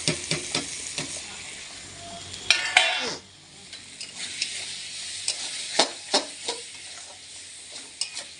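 Spices sautéed and stirred in a pan while khichuri is being cooked, giving a soft continuous sizzle broken by scraping stirs and light clinks of a utensil against the pan.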